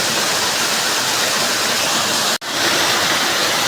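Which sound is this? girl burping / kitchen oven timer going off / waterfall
waterfall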